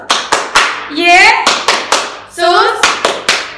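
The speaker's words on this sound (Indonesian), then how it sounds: "Kita mau tepuk tangan buat Tuhan Yesus" Children at an HKBP Sunday school service in Tangerang clap hands in a rhythmic pattern of sharp, close claps, broken twice by bursts of group singing or chanting voices between the clapping.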